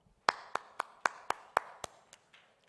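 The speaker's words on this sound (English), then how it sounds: "I think a big round of applause for my hero" Several slow, separate hand claps at a conference talk, about eight evenly spaced sharp claps that fade toward the end, sparse and fairly close in an otherwise quiet room.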